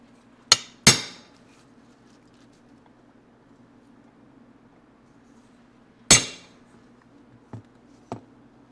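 Sharp metallic hammer strikes ring out on a metal chain tensioner part for a Yamaha AT-1 MX motorcycle: two quick blows, a pause, then another hard hit followed by lighter taps.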